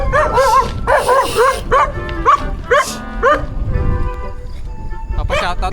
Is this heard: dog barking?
yes